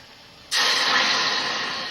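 A sudden loud sizzling hiss as water is poured into a hot pot on a stove, starting abruptly after a brief quiet and holding steady, slowly easing, with no talking.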